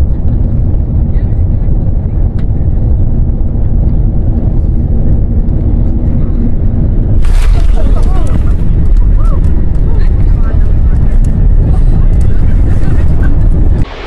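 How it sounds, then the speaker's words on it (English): A Lufthansa Airbus A350 makes a hard landing, heard as loud rumbling wind and engine roar with a sudden rise in noise at touchdown. A voice talks over much of the clip. "The Lufthansa Airbus A350 suffers a hard landing."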